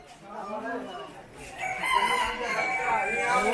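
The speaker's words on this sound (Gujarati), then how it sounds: "આ દેશી કુકડા હે તે શક્કરબાગમાં રાજ કરે છે" A native country rooster crows at Sakkarbaug zoo, one loud, close cock-a-doodle-doo that rises and stretches out, with some clucking and people talking nearby.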